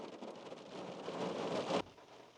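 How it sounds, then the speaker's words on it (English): Rain falls around a Vauxhall Corsa D, a steady, fairly quiet hiss that cuts off abruptly shortly before the end. "It's raining."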